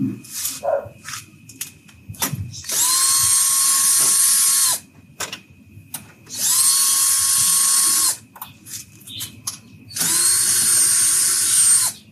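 A power drill removing the bolts from the front cover of an NWOW WSP eBike, three loud whirring bursts of about two seconds each, separated by quieter clicks and handling noise, with no talk.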